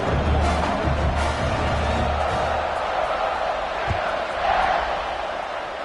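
A Madden 26 stadium crowd roars and cheers steadily before a football kickoff, a dense wash of crowd noise with a brief thump near the middle and game commentary mixed in.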